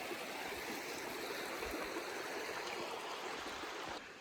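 Small river flowing over bluish-green stones along a trail in Washington, a steady, loud, continuous rush and babble of water close by, with no talk over it.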